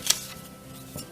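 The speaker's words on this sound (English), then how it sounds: "and I cut it out with a not too small seam allowance" A single snip of scissors cutting a fabric circle for a quilt, followed by a softer slide of the blades, close and brief. No speech.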